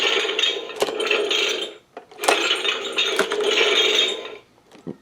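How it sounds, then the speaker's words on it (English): Infinity Gauntlet toy triggering a sound effect as a stone is moved, a metallic, clattering electronic burst repeated in two long bursts with sharp clicks, close and fairly loud. "And each one you move has a separate sound trigger."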